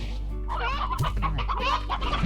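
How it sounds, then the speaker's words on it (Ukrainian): Chicken clucking from the Slime Rancher video game: a run of close, repeated clucks over a steady low in-game hum, with no talk. "Кам'яна курка раз. І там одну заберемо. Оце курчак."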